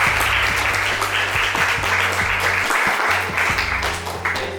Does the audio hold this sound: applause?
yes